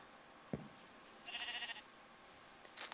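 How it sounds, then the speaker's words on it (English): A Minecraft sheep, rendered by the Better Animals mod, bleats twice, a short wavering call in the middle and another near the end, faint against a steady hissy game background with a soft thump before them. "I heard a sheep."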